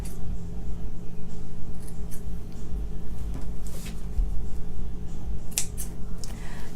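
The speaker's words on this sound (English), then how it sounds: "Your pins. Trim your strings." Scissors trimming loose threads and strings on a freshly sewn zippered fabric pouch, a few sharp close snips scattered over a low steady hum, with no talking.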